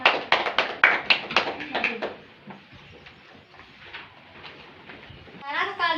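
Students in a classroom clap for a classmate, a burst of distinct handclaps in quick rhythm that thins out after two seconds, followed by quiet room noise and a voice speaking at the end.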